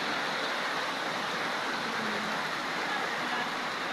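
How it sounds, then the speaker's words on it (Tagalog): A constant, loud roar of heavy rain pours down during the Philippine rainy season with flooding, a dense wash of noise with no voices. "Lakas ng ulan, oh."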